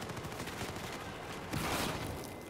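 A shotgun in a video game fires repeatedly in quick, rough bursts, loud and close, growing heavier toward the end with no talk over it.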